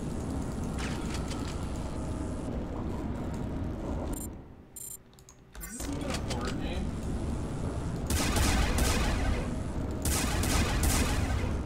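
Gunfire in the underwater action game Hydrophobia Prophecy: rattling mechanical bursts of shots, loud and steady, dropping out briefly midway before resuming harder, with speech over parts of it.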